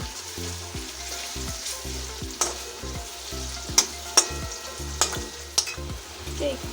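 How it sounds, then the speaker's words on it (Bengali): Onions fry in a pan after potatoes, giving a soft continuous sizzle with regular scraping stirs of a utensil and a few sharp clicks against the pan. "এই পেঁয়াজগুলো দিয়ে দিয়েছি পেঁয়াজগুলো একটু ভেজে নিই"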